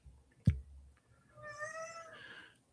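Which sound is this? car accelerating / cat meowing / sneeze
cat meowing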